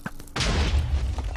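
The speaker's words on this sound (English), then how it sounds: "And that head just blew up" A hydra head blows up in modded Minecraft (SevTech), a single deep booming burst that starts abruptly and rumbles on for about a second, close and fairly loud.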